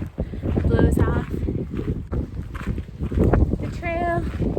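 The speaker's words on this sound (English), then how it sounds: "The wind's gusting" Strong gusts of wind buffet the microphone on a groomed stretch of the Pacific Crest Trail, a loud, steady roar that rises and falls, with someone speaking over it.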